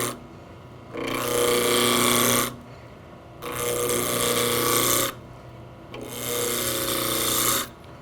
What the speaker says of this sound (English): Begin turning with a spindle roughing gouge, just roughing the end of the blank down to a cylinder.